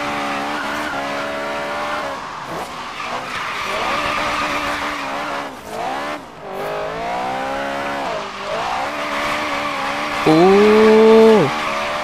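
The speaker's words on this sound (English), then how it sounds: "Oh, drifting around the car." A Toyota AE86 Trueno drifts in Forza Horizon 3, its engine droning and wavering for a long stretch before a sharp, rising tire squeal cuts in near the end, loud and close with no talk.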